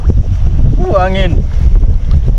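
Wind gusting over an open boat at sea on a fishing trip off an uninhabited island, a steady rushing roar buffeting the microphone throughout, with a brief voice rising in the middle.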